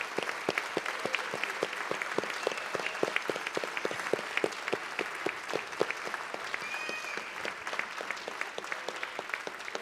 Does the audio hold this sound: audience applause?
yes